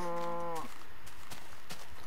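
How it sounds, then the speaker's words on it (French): A Minecraft cow lets out a single harmonic moo lasting about half a second, followed by a few short percussive game clicks and thuds. "Moi je suis en train de me battre avec les vaches."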